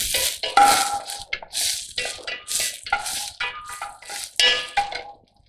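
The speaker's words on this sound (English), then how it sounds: "Saute it." Leek, celery, chopped garlic and shallots sautéed in a pan in a cookery practical: irregular scraping and stirring strokes with metallic clinks of utensil on pan over a faint sizzle, no voices.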